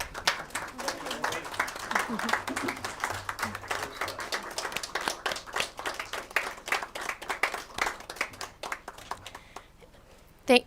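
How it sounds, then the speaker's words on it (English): Applause in a Senate judiciary committee hearing room: a modest group clapping steadily for about ten seconds, individual claps audible, tapering off with a sharp knock at the end. "Yes, I think a round of applause is appropriate."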